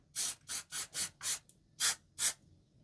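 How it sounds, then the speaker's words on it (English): Liquid electrical tape is sprayed onto a car's positive battery terminal in seven short hissing bursts, each about a fifth of a second, close and crisp with brief pauses between. "We're gonna use a little spray electrical tape just on this positive one."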